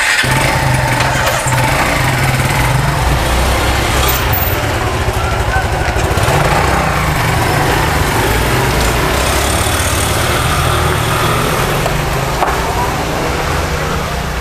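A motorcycle engine idles steadily and loudly throughout in an Indonesian street setting, a low continuous rumble with people talking over it.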